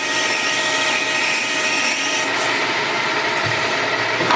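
A metal lathe turning a workpiece gives a loud, steady whir with a constant motor hum and a brief low knock near the end, with no talk.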